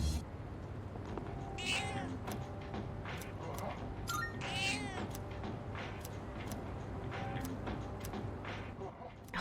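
A cat in the video game Persona 3 Reload meows twice, short drawn-out cries that stand out clearly against soft ambient game music and faint ticking in the background.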